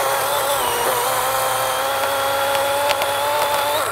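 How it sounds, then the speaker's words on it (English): DeWalt 20V MAX XR cordless chainsaw fitted with an Oregon chain cutting through a log, a loud, steady high-pitched motor whine with chain rattle that holds constant, pitch dipping slightly under load near the end. "You can actually see that it cuts pretty rapidly with this Oregon chain."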